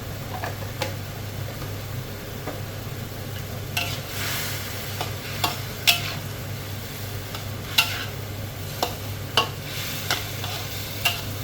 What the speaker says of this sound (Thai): แล้วก็ผัดแบบนี้นะคะ ให้สุกๆมากกว่านี้หน่อย